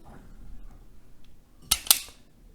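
An electrical cable is cut through its middle, two sharp, close snips in quick succession after a quiet stretch of faint handling noise.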